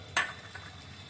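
A spatula scrapes once through spice paste with a bay leaf frying in oil in a pan, followed by a soft sizzle and a fainter second stir, close by.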